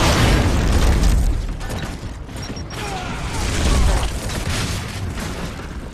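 A frag grenade blast in Gears of War: Judgment multiplayer rolls out as a loud, rumbling boom that swells, dips, then surges again, with no voices over it.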